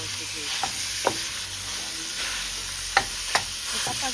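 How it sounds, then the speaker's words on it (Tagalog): Garlic and onion sauté in a pan for a ground pork menudo, a steady close sizzle with a few sharp scraping stirs spaced out across it. "igisa po natin yung sa bawang at sibuyas"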